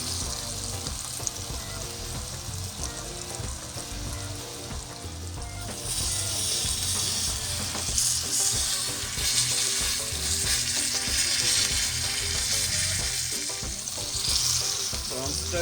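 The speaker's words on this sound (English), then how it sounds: "I'm searing the other one." Pot roast meat sears in a pan with a continuous crackling sizzle that grows noticeably louder and brighter partway through, heard up close without speech.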